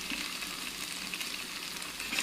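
Boiled, peeled, halved taro root pieces frying in a pan make a soft, even, continuous sizzle that stays close and steady for a couple of seconds.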